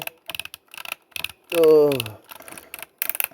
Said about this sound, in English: Let's get the ratchet ASMR for a little bit, right?